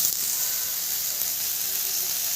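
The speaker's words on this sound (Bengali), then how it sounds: "এবার এই তেলেই সোয়াবিনটা একটু ভাজা করবো" Soybean chunks fry in oil left in the pan after frying potatoes, making a steady, soft, close sizzling hiss throughout.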